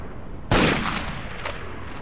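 A single loud gunshot from a rifle in the game STALKER cracks sharply, then its echo rings out and decays, followed by a fainter second report shortly after; no talking.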